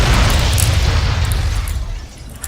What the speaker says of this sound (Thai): เกิดการระเบิด